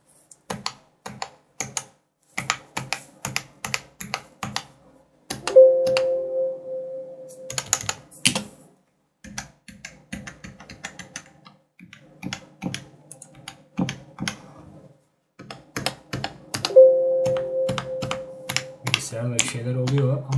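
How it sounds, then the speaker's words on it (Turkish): Typing on an Everest Rampage KB-R88 mechanical keyboard, with bursts of crisp close key clicks in quick runs, some keys deeper and some sharper, broken by short pauses and a couple of brief tonal beeps. "Bazı tuşlardan daha tok ses çıkarken bazılarından daha tiz bir ses çıkıyor."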